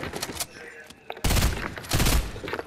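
FAMAS rifle fire in Fortnite comes in rapid bursts, a short crackly volley early and two louder, sustained bursts later, up close with brief gaps between.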